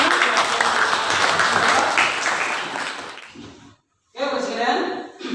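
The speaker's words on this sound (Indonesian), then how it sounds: "Tepuk tangan" Students in a classroom clap together in a dense burst that fades out, falls silent briefly, then a voice begins speaking.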